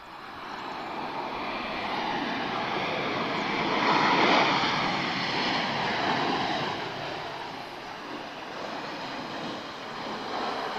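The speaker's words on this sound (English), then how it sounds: "Nice loud reverse thrust, that's what I want to hear." An airliner landing at Lisbon Airport, its engines roaring in loud reverse thrust that swells to a peak midway and then holds as a broad steady rumble at a distance.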